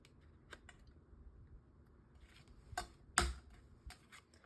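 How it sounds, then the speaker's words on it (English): A paper corner rounder punching the corners of a handmade fan fold card, a few sharp isolated clicks and snaps at irregular intervals, one especially loud punch midway, in an otherwise quiet room. "I have a corner rounder here"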